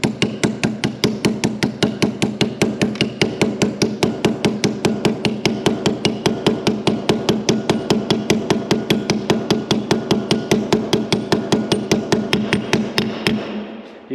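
A hammer taps a metal bearing race into place on a utility vehicle's locker differential in a fast, steady rhythm, dozens of bright, ringing strikes close up, continuing without pause for over ten seconds.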